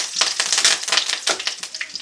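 Dried red chillies, cashews and curry leaves fry in a pan for home-style drumstick curry, giving a dense, steady crackling sizzle with sharp little pops throughout and no voices.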